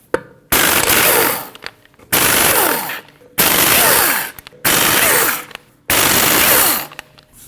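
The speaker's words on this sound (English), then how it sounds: "After you raised and supported your vehicle safely, you need to remove your 5 3/4-inch lug nuts." An impact wrench removes the front wheel lug nuts on a 2013-2019 Ford Escape: five loud, separate rattling bursts, each about a second long, with short pauses between them.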